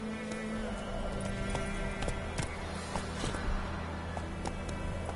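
The horse Roach's hooves clop in a quick, steady galloping rhythm in a video game, close and fairly quiet, over a low hum of background game ambience.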